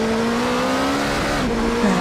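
Race cars lapping the Fuji circuit in a video game sim race, a steady sustained engine drone with a slight pitch shift toward the end, fairly loud and continuous with no talk.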